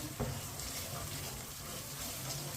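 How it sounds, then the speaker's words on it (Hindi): Turmeric, red chilli powder and whole coriander seeds frying in a pan for masoor dal, giving a steady, soft sizzle with a faint stir near the start and no talking. "मसालों को 1 मिनट के लिए पका लेंगे।"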